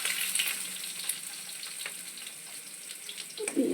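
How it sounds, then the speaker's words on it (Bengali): Oil sizzles and crackles in a pan as cumin and fennel seeds are tempered and potatoes are added, a close, soft frying hiss with scattered pops and a stir near the end. "আমি তেল দিয়ে দিচ্ছি, জিরা মৌরি ফোড়ন দেবো"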